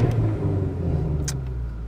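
A Ford Mustang GT's engine and exhaust rumble steadily nearby, a deep, constant drone that holds for the couple of seconds rather than a sharp rev.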